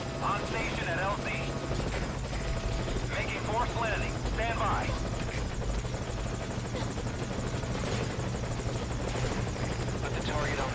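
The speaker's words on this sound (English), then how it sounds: "Put the target on the chopper." A helicopter in Metal Gear Solid V: Ground Zeroes keeps up a steady, close rotor thrum throughout, while voices speak intermittently over it.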